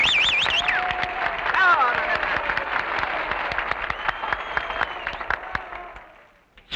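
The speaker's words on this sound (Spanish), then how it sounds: "¡Un aplauso fuerte para don Gaspar!" Loud applause for don Gaspar, the boss, in a workshop, with dense clapping and several cheering voices throughout before it tapers off near the end.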